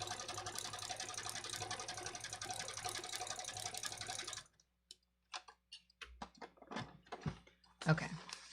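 A sewing machine stitches in a quick, steady mechanical rhythm for about four seconds, then stops, followed by quiet handling clicks and a person speaking.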